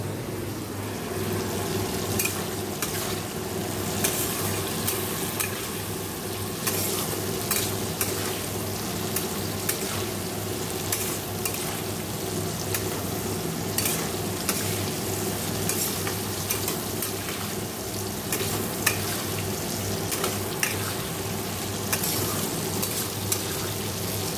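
Potatoes, pumpkin, brinjal, tomato and green chilli sizzle steadily in a kadai over a dried red chilli tempering, with frequent scraping stirs and small clinks throughout, close and continuous.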